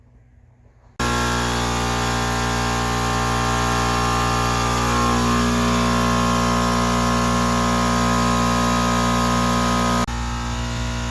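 A Craftsman air compressor starts abruptly and runs with a loud, steady mechanical drone and strong buzzing hum, then cuts off sharply about nine seconds later, no talk.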